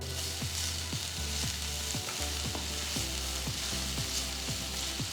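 Finely chopped garlic, ginger, green chilies and onion fry in a little hot oil in a pan, giving a steady close sizzle with regular scraping clicks of a spatula stirring about twice a second.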